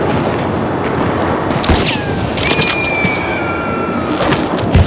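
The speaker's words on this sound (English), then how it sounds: "Gunshots." Gunfire rings out in the video game Dishonored 2, a few sharp reports and cracks over a busy, noisy game soundscape with no speech.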